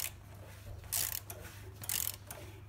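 Ratchet with a 27mm socket tightening the plastic oil filter housing cap on a Jeep Renegade 1.4 Turbo, giving soft clicking bursts in two or three short strokes, faint and close.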